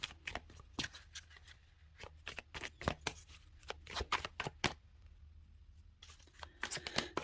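Tarot cards being shuffled by hand, a long run of crisp close flicks and riffling bursts with brief pauses, no voice.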